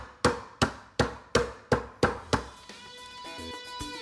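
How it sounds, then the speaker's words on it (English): Cinnamon pieces in a plastic bag under a towel struck hard with a hammer, six or seven sharp, evenly spaced thuds close up, then trailing off into a faint rattle and ringing. "put it over the top of them, and smash them with a hammer"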